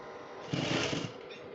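A sewing machine top stitches a sleeve placket on a top, a short steady run of rapid mechanical stitching rising midway and easing off, close and moderately loud with no voices.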